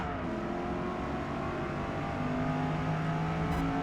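Corvette E-Ray C8 in Forza Motorsport accelerating hard out of corners on the Nürburgring GP circuit, a sustained engine whine with rising and shifting tones, steady and unbroken.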